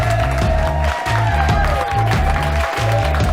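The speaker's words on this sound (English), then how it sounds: "So please give a round of applause for Miss Maria Viola Jefferson." Studio audience applause on a talk show, a steady dense wash of clapping under loud music with a sustained melodic line, continuous and close throughout.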